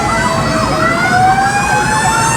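Loud, continuous fire engine siren with overlapping wailing tones at a big fire in Kamuning, Quezon City, Philippines, heard close over a dense urban rumble.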